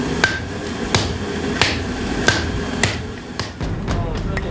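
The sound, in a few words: several people hammering heated bronze disc for bangjja brassware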